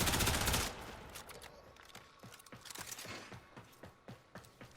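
Soma Prime assault rifle firing in the video game Warframe: a loud burst opens, then a rapid, steady run of fainter individual shots continues at an even rhythm, with no voices over it.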